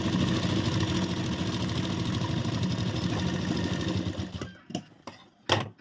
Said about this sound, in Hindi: फोल्ड करने के बाद ऊपर हम सिलाई लगाएंगे